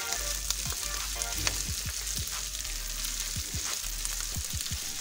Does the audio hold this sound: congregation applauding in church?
no